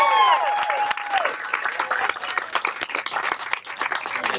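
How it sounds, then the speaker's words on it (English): A school crowd gives a round of applause for a teacher of the year, steady dense clapping that fades slightly toward the end, with a few cheers and voices mixed in. "can we give Stephanie one more round of applause?"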